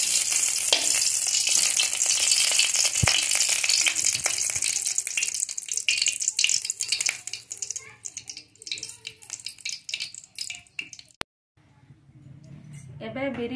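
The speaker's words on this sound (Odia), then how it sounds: "କଢ଼େଇ ଗରମ ହେଲା ପରେ 2 ଚାମଚ ଗୁଆ ଘିଅ ଦେବା" Two spoons of ghee heating in a hot kadai on a gas stove, a steady bright sizzle with occasional metal clinks, fading out partway through before a brief quieter stretch.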